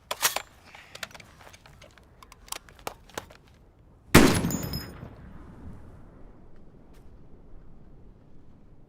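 A sniper rifle fires one loud, close, ringing shot that decays slowly, preceded by a series of sharp metallic clicks and handling noises.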